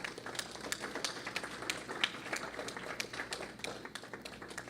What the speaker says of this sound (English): I think we should give the TASA Association a round of applause.